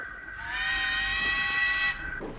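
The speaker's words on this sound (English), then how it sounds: "when he heard another whistle" Steam locomotive whistle blowing one sustained, loud, close blast with a bright harmonic tone, cutting off abruptly, set against faint rail-yard rumble in a Thomas-style railway story.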